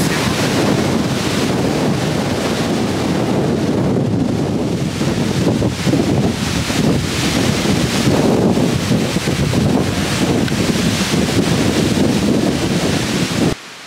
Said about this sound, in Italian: il vento è fortissimo